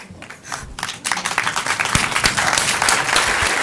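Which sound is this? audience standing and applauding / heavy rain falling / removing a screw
audience standing and applauding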